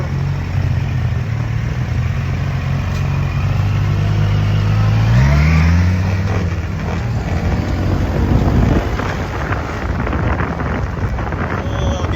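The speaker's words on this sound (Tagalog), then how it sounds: "binubumbahan pa tayo nitong mga motor na naka 300cc. Malakas ang motor." 300cc motorcycles revving nearby, a loud engine drone that climbs and falls in pitch over wind noise, steady throughout with a few rising surges.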